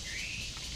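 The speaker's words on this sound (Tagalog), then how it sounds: "Ibon yun." A single short bird call rings out, a thin high whistle that slides slightly and then fades, heard faintly against a steady outdoor hiss after a typhoon and flooding.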